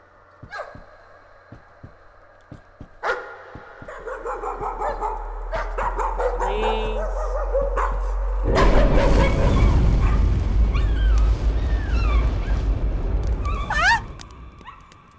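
Spectral dog barking in the horror game Layers of Fear: a series of sharp barks and yips that build into a loud, dense burst of noise, with whimper-like tones threaded through a rumbling backdrop.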